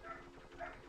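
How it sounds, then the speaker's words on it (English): Faint puppies next door giving two short whimpering yelps, muffled and distant, with no talk over them. "Excuse me, puppies. That's next door starting up."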